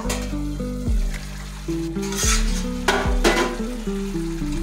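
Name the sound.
chicken being sautéed in a pan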